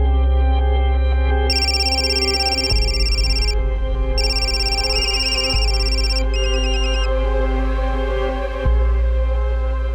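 Mobile phone left lying at a crime scene rings after its number is dialled, a bright electronic ringtone repeating in regular bursts over a low, sustained dramatic drone.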